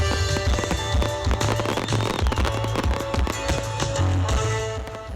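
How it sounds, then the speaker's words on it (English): Fireworks burst at a Christmas tree lighting celebration in Coeur d'Alene, a dense run of loud booms and crackling pops in quick succession, echoing over the crowd. "Coeur d'Alene officially kicked off the Christmas season tonight with its traditional tree lighting and fireworks display, as you can see and hear there"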